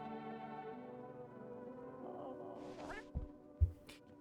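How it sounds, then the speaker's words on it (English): A cat meows in a video game, a soft drawn-out call over a steady droning game soundtrack, followed by a couple of dull thumps. "I love that you can pick up the cat."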